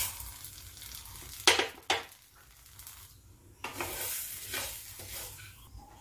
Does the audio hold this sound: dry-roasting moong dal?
yes